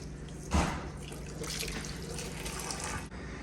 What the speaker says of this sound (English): we're gonna go ahead and turn this on and then flush it over there